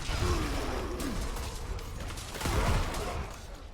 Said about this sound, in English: That was a pretty nice bunch of overpower explosions